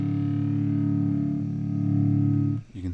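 A sustained electric guitar chord rings out with a roomy reverb tail, ending with a brief pluck.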